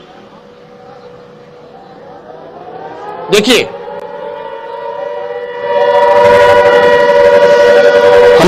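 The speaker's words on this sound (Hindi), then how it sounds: "आप सुनिए, सायरन बजना शुरू हो गया है।" A wailing air raid siren rises and holds steady, growing louder partway through, with someone talking over it and a brief loud knock.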